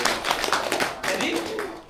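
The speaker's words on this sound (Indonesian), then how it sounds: "tepuk tangan untuk Pak Bambang ya" Scattered clapping from an audience at a gathering in Lampung, with a voice talking over the short burst of applause.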